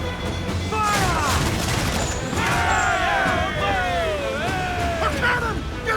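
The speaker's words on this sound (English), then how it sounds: "A cannon! Get out of range!" Cannon fire in a naval battle in the video game Assassin's Creed IV Black Flag: booms and crashes amid shouting crew voices.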